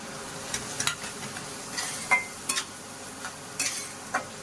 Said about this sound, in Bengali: মশলাগুলোকে এরকম করে ভাজতে হবে